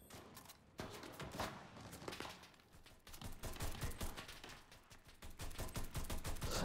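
Rapid bursts of gunfire from a WWII Pacific campaign video game, dense overlapping shots and thumps cracking steadily throughout at moderate loudness, with no talk.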